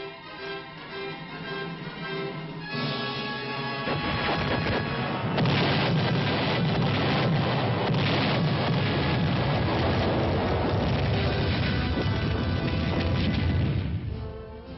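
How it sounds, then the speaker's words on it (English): Four field artillery batteries fire proximity-fuse shells during early-1960s West Point summer training, a dense, loud barrage of overlapping booms and crashes that swells after a few seconds into a continuous rumble before cutting off near the end. "4 batteries to fire proximity fuses."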